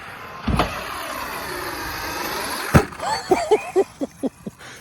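Arrma Kraton 8S RC car driving outdoors: a brief whine near the start, a quiet stretch, then a sharp hit followed by a run of short, evenly spaced motor bursts, close and moderately loud.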